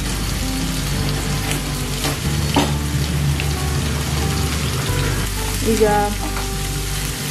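Four small chopped onions sizzle steadily in a pan while prawn egg bhurji is being prepared, a continuous close frying hiss with light stirring and a single brief spoken word.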